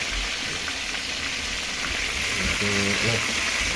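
Tilapia fries in hot oil with a loud, dense, continuous crackling sizzle, close up, while a voice speaks briefly underneath.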